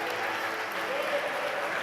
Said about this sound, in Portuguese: Pode começar a aplaudir.